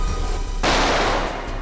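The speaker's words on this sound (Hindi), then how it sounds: "सर हम लोग गोली की आवाज सुनकर बहुत डर गए थे" A single gunshot sound effect in a TV crime drama, a sudden loud blast that cuts through quiet background tone and then decays into a short echoing tail.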